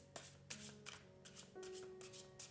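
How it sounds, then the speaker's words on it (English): A deck of custom tarot cards shuffled by hand in a quiet room, several crisp riffling bursts with short pauses between them, close and soft. "Let's go ahead and shuffle."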